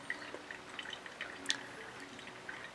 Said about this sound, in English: I want all of the water to have to pass through these coffee grounds in order to really extract all the flavors